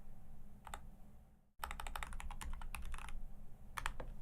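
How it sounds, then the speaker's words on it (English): Fingers type on a computer keyboard close up in quick, uneven bursts of clicks, brief at first and then a dense flurry of keystrokes, with no talking. "The typing sounds very nice."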